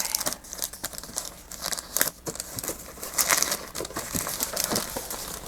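Crinkling and rustling from a portion of a used paper envelope being handled up close, with irregular crisp crackles and soft tearing-like scrapes throughout and no talking.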